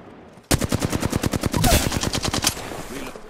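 Rapid automatic weapon fire in Apex Legends: roughly twenty evenly spaced, loud, close shots rattle for about two seconds, then stop abruptly into a low, quiet rumble.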